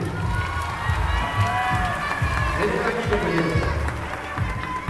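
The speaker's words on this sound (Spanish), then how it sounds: "Un aplauso, grande, grande, grande." An audience at a comics convention at a university cheers and claps, a dense crowd roar with scattered clapping under a host's talk nearby.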